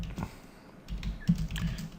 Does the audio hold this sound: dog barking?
no